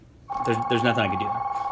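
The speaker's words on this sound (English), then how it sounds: "I'm sorry about the phone ringing." A telephone rings with a steady electronic trill, loud and continuous, under someone talking over it.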